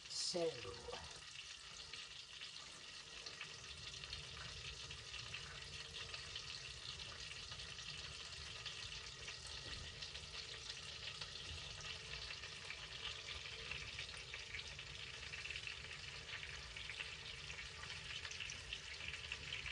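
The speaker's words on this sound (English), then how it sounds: "I'm going to leave that in there so we can get a good sear on it." A ribeye steak sears in a hot pan with a continuous, even, close sizzle that holds steady from start to finish.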